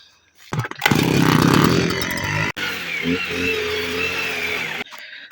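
A small two-stroke brush cutter engine buzzes loudly and steadily for several seconds while clearing a garden, revving briefly before settling into a continuous whine.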